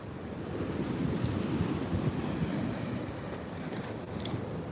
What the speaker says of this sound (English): sometimes these waves like sound like a gunshot. They're so powerful.